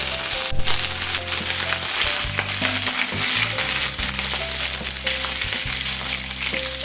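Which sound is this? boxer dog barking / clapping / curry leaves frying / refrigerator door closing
curry leaves frying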